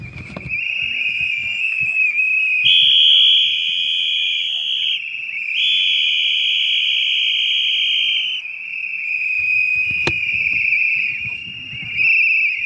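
Many whistles blown by protesters at a rally against price hikes shrill continuously and loudly at once, a sustained piercing chorus that swells and dips, with crowd voices murmuring underneath.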